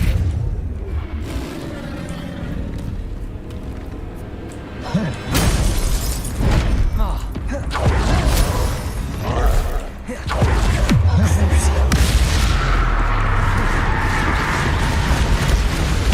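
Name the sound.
spell effects in Hogwarts Legacy video game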